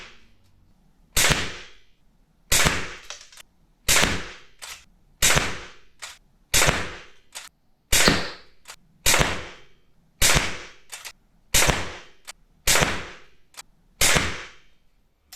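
A 4.5mm air rifle rated at 11 joules shoots Power Piercing pellets into a mannequin: twelve sharp, loud cracks at an even pace about a second and a half apart, each with a short ringing decay.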